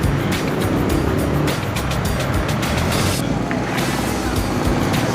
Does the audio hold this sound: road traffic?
yes